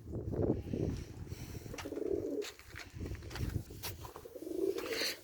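Pigeons cooing on a breeding farm, several soft, low coos close by in short repeated phrases, with faint rustling between them.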